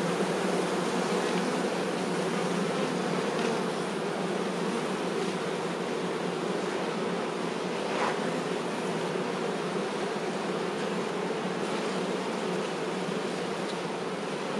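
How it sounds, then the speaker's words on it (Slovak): Honey bees buzz steadily at an open hive during a summer honey harvest, a dense, continuous drone close to the microphone with no talk. "Tieto včely zoslabli."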